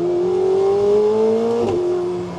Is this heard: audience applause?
no